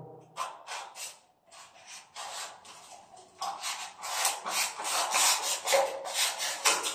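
Polystyrene decorative molding cut at 45 degrees with a hand saw: soft, quick scratchy strokes, close and fairly quiet, uneven at first and then more regular and louder.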